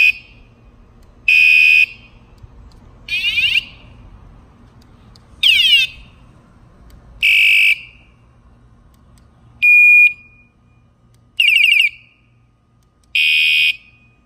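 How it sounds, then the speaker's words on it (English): A motorcycle alarm system cycles through its warning and locator tones: eight short bursts of shrill electronic chirping and beeping, separated by pauses, loud and close with no voices. "Those are all the different little pings and sounds it makes."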